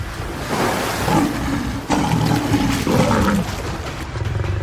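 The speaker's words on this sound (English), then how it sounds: "the lionesses charge into the water, using claws and fangs to reclaim their fallen kin" Lionesses charge into water to fight crocodiles in the shallows, deep roars and growls layered over churning splashes, loud and close, shifting in bursts throughout.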